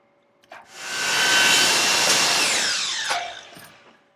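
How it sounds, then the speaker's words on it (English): A miter saw cuts through picture frame moulding: a short motor whine spins up, bites steadily through the wood for about two and a half seconds, then winds down, with a few clicks and knocks of handling around it. Close and loud, no talking. "Now I have to go back and cut my miter again."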